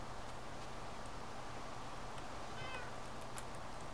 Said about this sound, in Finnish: Terve kissat.